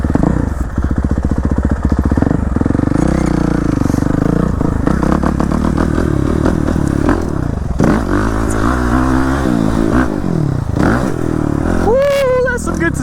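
A new dirt motorcycle is ridden hard, its engine revving and climbing through long-geared first and shifting up, loud and close with rattling from the bike, and a rider talks over it at times.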